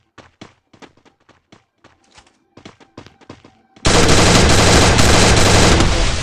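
Gunfire in a battle royale video game, with scattered sharp single shots and bursts, then a sudden loud, sustained barrage of automatic fire close by.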